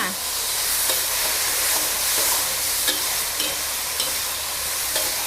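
Eringi mushrooms stir-fried over high heat in oyster sauce give a steady, loud sizzle, with spatula scrapes and clicks breaking through now and then.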